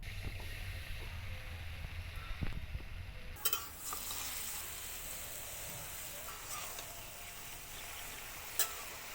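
Taro leaves dropped into hot oil with whole cumin and dried chillies set off a sudden loud, steady sizzle that continues with a few stirring clinks.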